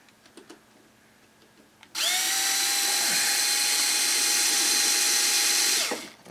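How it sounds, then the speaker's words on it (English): A power drill whirs steadily for about four seconds, loud and close, then winds down, after a few quiet background knocks, while drilling a hole in a clamped model aircraft. "So we're going to drill us a hole"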